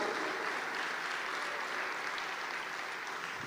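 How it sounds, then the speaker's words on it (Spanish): A church congregation applauds, giving a steady, dense patter of many hands clapping that holds at an even level throughout and sounds moderately distant. "Dale fuerte ese aplauso a Él"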